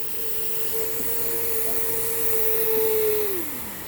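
A tiny F130 toy dynamo motor running at 3.7 volts spins a small fan, giving a steady, thin whine that holds level for about three seconds and then drops away, with no talk over it.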